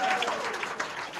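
An audience on a Nigerian call-in radio program claps in a short burst of applause, with voices talking over it.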